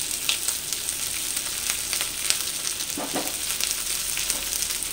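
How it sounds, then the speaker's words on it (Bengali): Chopped onion and minced garlic fry in hot oil in a kitchen pan, giving a steady, close sizzle for the whole stretch with faint crackles scattered through it and no voices. "যে পেঁয়াজটাকে ভালো করে ভেজে নেব"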